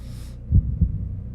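A heartbeat in the horror video game Five Nights at Wario's thumps twice, low and muffled, a deep double pulse over a quiet hum.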